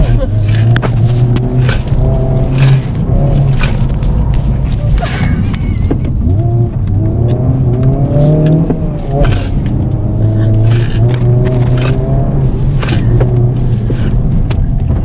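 A car on Hoosier TrackAttack Pro tyres driving a timed lap: a loud, steady engine drone and road rumble run throughout, with people talking over it.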